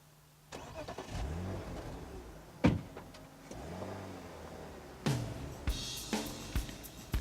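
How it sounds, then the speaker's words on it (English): Electric windows on a BMW 3 Series Coupe, front and rear, whir up and down in two drawn-out motor runs, each ending in a soft thunk, with a few sharper clicks and knocks from the car's interior between them. "including electric windows front and rear"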